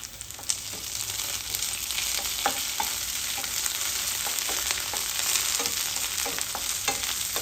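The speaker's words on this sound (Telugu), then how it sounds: "అది ఉల్లిపాయ అలా మెత్తబడ్డాక కొద్దిగా కరివేపాకు కూడా వేసుకొని మరి కాసేపు వేపుకోండి" Onion and curry leaves fry in a pan with a steady crackling sizzle, broken up by frequent sharp clicks as a spoon stirs and scrapes.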